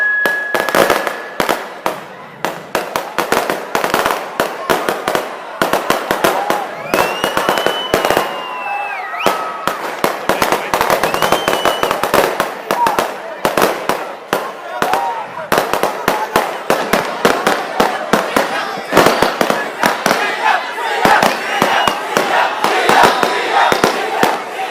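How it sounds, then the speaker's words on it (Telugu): Firecrackers burst in dense, rapid volleys at a crowded political gathering in Srikalahasti, with sharp near cracks and pops filling the air while a crowd shouts and a speaker talks over the din. "తమ్ముడు క్రాకర్స్ ఎవరో కాలుస్తున్నారు, క్రాకర్స్ కాల్చొద్దండి ప్లీజ్"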